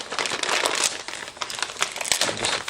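Plastic packaging on a boxed three-tier dog stair set being cut open, a steady run of close crinkling and crackling with sharp snaps, alone without talk.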